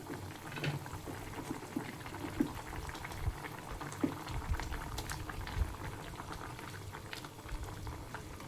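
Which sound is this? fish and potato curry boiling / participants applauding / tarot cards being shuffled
fish and potato curry boiling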